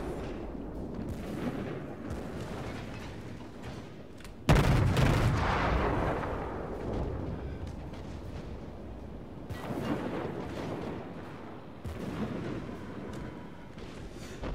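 Secondary guns on warships fire in World of Warships, a steady rumble of repeated gunfire punctuated by one sharp loud blast midway and further bursts later, all fairly close.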